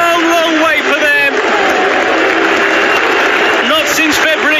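Loud stadium crowd of Brighton fans roaring and cheering a goal, a dense continuous wall of cheers and applause with some voices rising above the mass.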